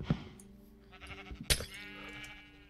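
Sheep in the TerraFirmaCraft game bleat several times, close and clear, over a low steady ambient hum.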